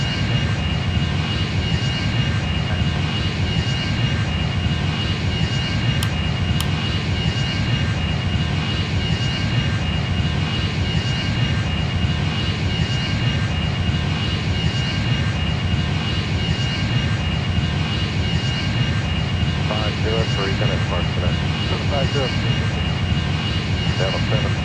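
Boeing 777-300ER jet engines in the Airline Commander flight game at JFK, a steady, loud broadband roar that holds constant throughout with no break.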